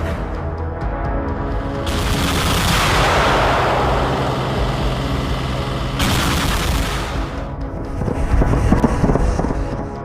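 A German-made Gepard 35mm self-propelled anti-aircraft gun built by Krauss-Maffei Wegmann, used by Ukrainian forces, fires in loud, sustained bursts. A second burst follows a short break, and there is no talk.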